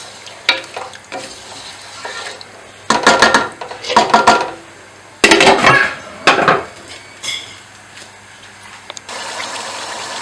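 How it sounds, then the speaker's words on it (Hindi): Chunks of beef fry in spiced oil in a pot for pulao, loud bursts of sizzling and clattering spoon stirs coming in several distinct waves over a quieter steady fry, close by with no voices. "अब मैं इसमें गोश्त ऐड करूंगी और 2-3 मिनट तक इसे भूनूंगी ताकि मसाला गोश्त के अंदर चला जाए"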